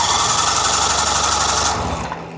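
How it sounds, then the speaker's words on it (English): A 20HP Mariner / 25HP Mercury outboard motor cranks on its electric starter and catches, running with a loud, steady buzzing drone before cutting back near the end. "Now we have an electric start motor that we don't have to jerk on the rope if it happens to get flooded"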